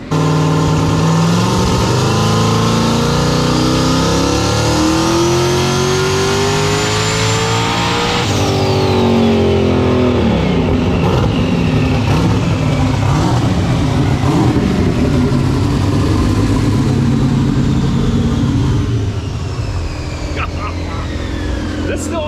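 Turbocharged high-power street car on a dyno, engine revving hard and continuously through repeated wastegate-boost pulls, rising to a peak before dropping and building again, loud and sustained with talk underneath.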